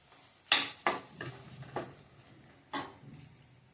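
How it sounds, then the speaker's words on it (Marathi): Whole spices such as cardamom, cinnamon, cloves and pepper dropped into hot oil in a pan for Malvani chicken rassa, a few distinct faint clicks and taps spread over several seconds. "त्यात आपण आता खडे मसाले टाकूया"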